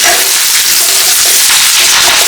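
Five dried red chillies and curry leaves fry in hot oil for a village-style country chicken curry, a loud, steady, close sizzle filling the whole moment with no talk.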